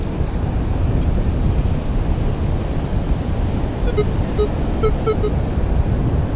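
Ocean surf washing up on a Daytona beach, a constant loud rushing wash with some wind buffeting the microphone and faint short beeps from a metal detector partway through.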